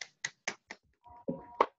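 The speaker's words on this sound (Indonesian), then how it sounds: "Kita beri tepuk tangan dulu." A few sharp, quiet claps sound one after another in quick rhythm during an online class, followed by some brief softer muffled noises.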